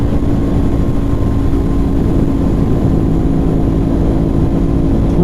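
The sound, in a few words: 2024 Aprilia RS660 twin-cylinder motorcycle engine revving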